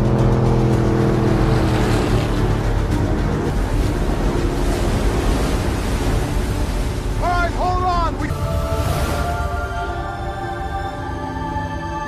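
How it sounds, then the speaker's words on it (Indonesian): A speedboat runs through huge tsunami waves, giving a dense, roaring rush of water and engine that holds steady, with brief whistling tonal sweeps cutting in near the end. "Ray sedang mengendarai speedboat dan dari kejauhan terlihat gelombang yang sangat tinggi"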